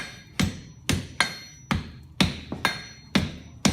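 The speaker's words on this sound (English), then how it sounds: "The round part of our hammer, we're taking it down there, and then we'll start knocking it back." A blacksmith's hammer strikes hot steel on an anvil while jumping up the end of a bar, seven sharp ringing blows at a steady, slightly uneven pace, close and loud with short decays between.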